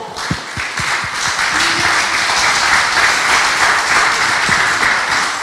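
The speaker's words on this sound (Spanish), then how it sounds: "Agradezco mucho a los señores expositores, para lo cual pido un fuerte aplauso." Conference attendees give the speakers a loud round of applause, starting with a few distinct claps that swell into a steady, full crowd clapping lasting several seconds.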